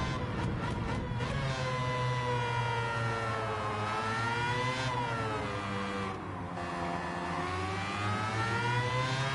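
The LM55 VGT race car in Gran Turismo 7, its engine whining at high revs, loud and close, pitch rising and falling through gear changes and corners, with no talking.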